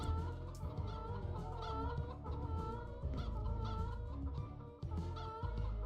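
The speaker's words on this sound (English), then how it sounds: "I'm still gonna change the chicken enemies to make some kind of different noise" Chicken enemies in the 3D metroidvania game Poppet Quest cluck steadily and faintly, a continuous chatter of fowl calls with occasional sharper squawks and no speech.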